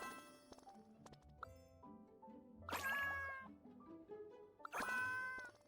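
A cat meows inside the video game Genshin Impact, two clear, drawn-out cries rising over soft game music and chimes, loud and close with brief gaps between them.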